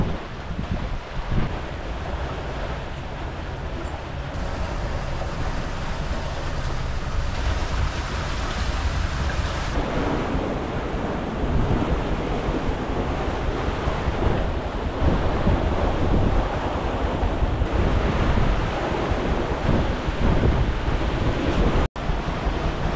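Strong wind buffets the microphone while waves rush and slosh against a moving 44-foot sailing yacht under sail alone near Maemuldo, Korea, a loud, continuous roar with no engine noise.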